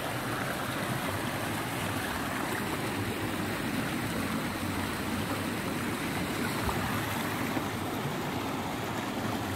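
Forest stream in Chư Mom Ray National Park, Vietnam, flowing over rocks, a steady broadband rush of water that stays continuous and even throughout, fairly close, with no voices.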